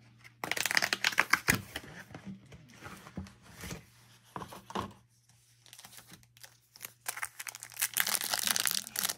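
Magic: The Gathering card packs are torn open and the cards handled, giving crinkly wrapper rustling, crisp snaps and repeated card shuffling and flicking in uneven bursts, close up with brief quiet gaps.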